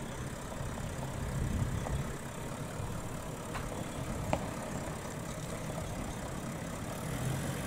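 A Toyota LandCruiser 79/76 series 4x4 engine gives a steady low drone, idling with a slight rise in revs midway, continuous and fairly close with faint clicks on top.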